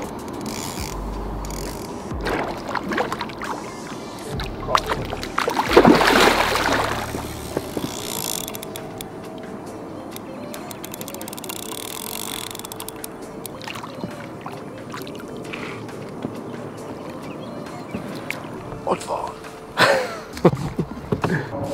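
A boat moves on a newly opened quarry lake during carp fishing, with ongoing clunks, rattles and a ratcheting reel-like mechanism heard close by, including a louder burst of activity midway.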